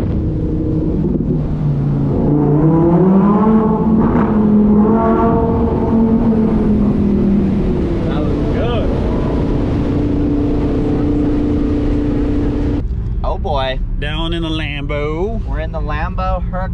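A Lamborghini supercar engine revs in a tunnel, loud and close, its pitch climbing and settling under a continuous echoing roar, with sharper rising revs near the end; no one speaks over it.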